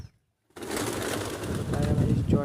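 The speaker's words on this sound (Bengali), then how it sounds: "দেখো পায়রা, দেখো কত আসছে পায়রা গাইস" Pigeons cooing as they gather to be fed rice outdoors, a steady close burst of soft bird calls and wing noise starting after a brief silence, with a voice talking over them.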